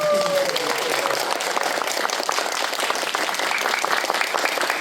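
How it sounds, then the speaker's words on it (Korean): An audience at an information session gives steady, sustained applause, many hands clapping close and evenly for nearly five seconds. "저희 소매보이시 가족분들한테 한번 박수 부탁드립니다"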